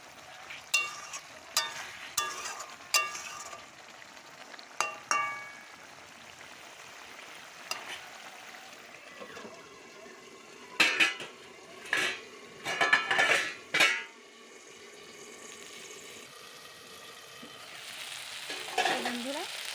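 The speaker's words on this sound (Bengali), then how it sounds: "এখন আরেকটু জল দিয়ে একটু ভালো করে কষিয়ে নেব" Gorai fish curry with bottle gourd is stirred and sautéed with a little water: a low simmering sizzle under repeated clinks and scrapes of a spatula against the pan, in bursts, with no speech.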